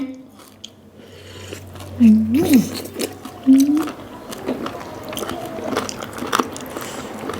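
Crunchy bites and wet chewing of chicken feet in a spicy Thai salad, close to the mouth, a few distinct crunches standing out over quiet background noise.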